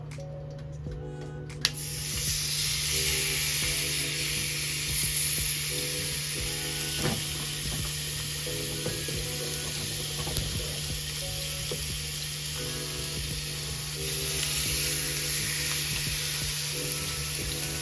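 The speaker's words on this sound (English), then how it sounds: "Now for these steaks, I am going to cook them and get a nice sear on both sides." Steaks searing in a hot oiled pan, a steady bright sizzle holding from start to finish with no talking, joined by faint clicks and a low hum.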